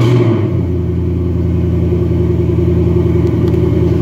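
A 2018 Ford Mustang engine, started in a garage on a snowy day, settles into a loud, deep steady rumble after an initial burst, droning close and continuously.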